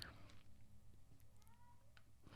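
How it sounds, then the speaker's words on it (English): A pet cat named Maui meows softly in the background of a quiet room, a few faint, brief calls breaking through low household hum. "If you can hear meows in the background,"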